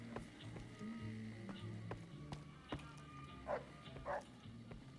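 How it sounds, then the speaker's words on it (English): A dog in Fallout: New Vegas, played on hardcore mode, gives a couple of faint, distant barks over a low, humming game ambience with soft tapping sounds. "stupid dog"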